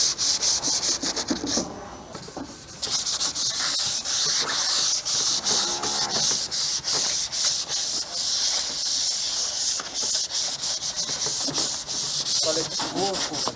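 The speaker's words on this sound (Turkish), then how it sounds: "şimdi zımpara işlemine başladık" Continuous abrasive rubbing and hissing of sandpaper scraping motorcycle parts before painting, steady and close, with brief pauses in the stroke rhythm and no talking.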